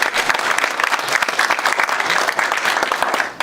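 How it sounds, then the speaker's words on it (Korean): A forum audience breaks into sustained applause, dense and even, with many hands clapping together at a moderate distance. "우리 박수 한번."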